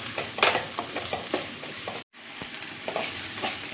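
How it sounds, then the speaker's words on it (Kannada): Ginger and garlic fry with onions in a pan for chicken gravy, a steady close sizzle broken by repeated scraping stirs, with a brief cut of silence midway and no talking. "ಈಗ ಶುಂಠಿ ಬೆಳ್ಳುಳ್ಳಿ ಕೂಡ ಚೆನ್ನಾಗಿ ಫ್ರೈ ಆಗಿದೆ"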